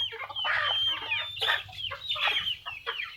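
Chickens cluck and squawk continuously and close by while feed is put out for them in a room of a country-style hen house, calls overlapping without pause.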